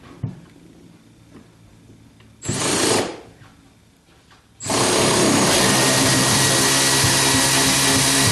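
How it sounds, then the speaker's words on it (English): Power wrench running on a seat bolt inside a 1976 Corvette restomod, a short loud whir followed after a pause by a long, steady, close-up buzzing spin that holds to the end. "And one last bolt if we can get to it with the power wrench."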